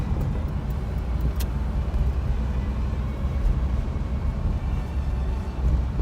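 Interior of a 1949 Cadillac cruising at about 60 mph, a steady low engine and road rumble with mild tire hiss, smooth and constant throughout, no talking.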